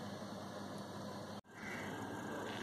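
A sewing machine stitches the neckline of a white net kurti, its motor humming steadily and evenly with one brief stop partway through before it resumes.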